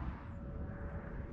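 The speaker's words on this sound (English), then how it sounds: "So I don't know if you can hear that buzzing in the background" Remote-control model airplanes fly over a dedicated field at Paramount Ranch on a cool winter morning, their engines a faint, distant, continuous drone under outdoor ambience.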